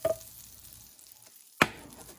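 Butter melting in a pan while being pushed around, a faint soft sizzle broken by two sharp scraping knocks of a utensil against the pan, one at the start and a louder one near the end.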